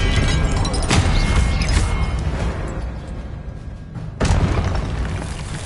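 Booming spell explosions in the Hogwarts Legacy video game, two big concussive blasts with a rumbling tail between them, loud and close amid combat noise.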